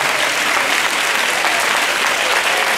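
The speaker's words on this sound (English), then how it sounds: "Can you give them a clap?" Loud, dense clapping from an audience at a basic school event in Kyebi, an even wall of applause sustained throughout.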